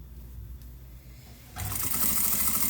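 A sewing machine stitches across the bottom of a fabric bag, starting after a quiet stretch and then running in a steady, close, continuous whir.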